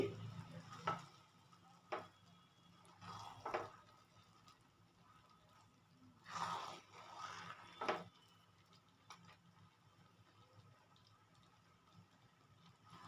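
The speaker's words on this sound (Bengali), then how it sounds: "একটু নেড়ে চেড়ে দিচ্ছি" Chicken kofta pulao is stirred in a pot with a spoon, giving a few soft scraping and clinking bursts separated by quiet stretches, close and faint.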